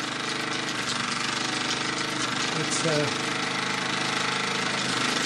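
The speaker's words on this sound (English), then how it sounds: "Wet exhaust at the moment." A 1954 Mamod SE2 model steam engine runs with a wet exhaust, giving a continuous rapid knocking chug that stays loud and steady throughout, with a brief voice.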